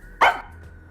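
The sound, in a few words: dog Sugar barking, from the video game Rain Code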